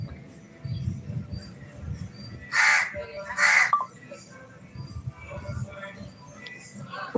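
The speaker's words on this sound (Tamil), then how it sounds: "பாருங்க காக்காவும் வந்துருச்சுங்க" A crow caws twice in quick succession, loud and fairly close, over faint background talk and low outdoor rumble.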